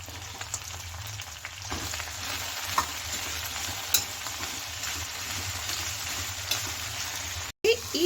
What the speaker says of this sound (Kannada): ಈ ಹದಕ್ಕೆ ಬೆಂಡೆಕಾಯಿನ ಫ್ರೈ ಮಾಡ್ಕೋಬೇಕು